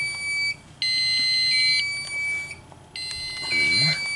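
A fire alarm system panel in drill mode sounds loud, high electronic alarm tones in pulsed bursts that start, stop and restart, with a faint voice underneath.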